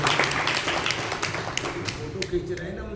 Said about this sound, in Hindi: तालियों से स्वागत करें आप लोगों को